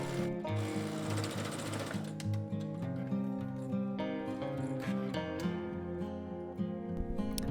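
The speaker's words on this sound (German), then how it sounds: "Wir fangen ganz am Anfang an und nähen bis zum Ende und verriegeln natürlich auch beim Anfang und beim Ende." A sewing machine stitches a sleeve seam on a polo shirt, a fast steady mechanical chatter close by that runs without pause from start to end, alone with no voices.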